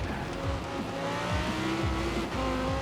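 An Audi revs hard in the racing game Forza Horizon 4, its engine rising and dropping in repeated loud pitch sweeps like gear changes, continuous and close with faint tire noise.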